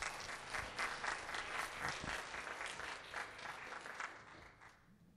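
Workshop audience applauding after a presentation, a dense wash of many hands clapping at a distance, fairly faint, tapering off toward the end with no talk.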